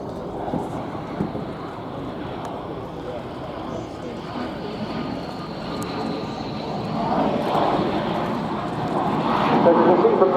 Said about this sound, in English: Here now is that slow-speed, high-angle attack pass.